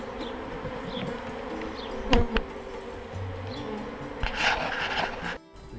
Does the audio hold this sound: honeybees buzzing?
yes